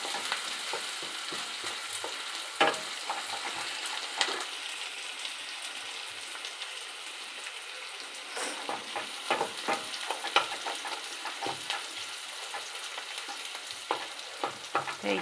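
Onions fry in a pan with a soft, steady sizzle, broken by scattered crackles and stirring clicks, fairly quiet and close, with no talking.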